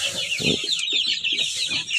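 A Kuchin hen clucks in a string of short, rhythmic low calls close by, over a constant high-pitched background chirping.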